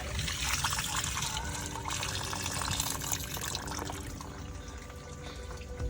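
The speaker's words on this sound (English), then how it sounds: "The most satisfying part is draining this." Water drains steadily out of a wrecked 2020 Kia Rio damaged in a rear-end accident, running and trickling in a continuous close-up stream that eases off slightly toward the end.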